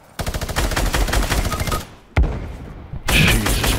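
Minigun fire in a shooter video game, loud sustained rattling bursts cutting off abruptly, then resuming after a sharp blast, close and dominant.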